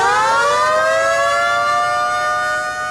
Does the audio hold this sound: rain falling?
no